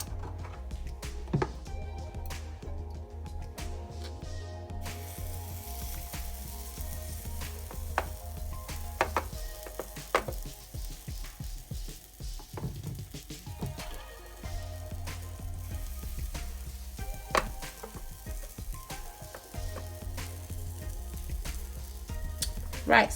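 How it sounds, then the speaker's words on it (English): Butter sizzles in a heated waffle maker for an Oreo ice cream sandwich, a steady low frying hiss with occasional sharp clicks and clatters of handling throughout. "our waffle maker is green now, so I need to put my butter in"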